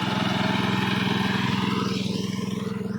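A farm crop-spraying machine engine runs steadily nearby, a loud, rapid pulsing drone with a buzzing mechanical hum that holds constant throughout.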